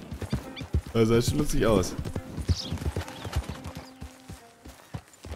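A horse's hooves clip-clop steadily while it is ridden in the video game Red Dead Redemption 2, with a short neigh early on. Someone talks over the hoofbeats throughout.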